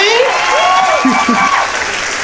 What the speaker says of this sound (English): Can you get applause for that or something?